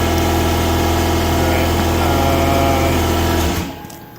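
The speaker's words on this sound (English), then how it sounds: "now my air compressor's done" Air compressor running steadily nearby in a garage during a 2009 Taurus X AWD repair, a loud continuous motor drone with a humming buzz that winds down and cuts off near the end.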